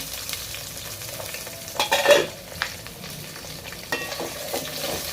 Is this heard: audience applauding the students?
no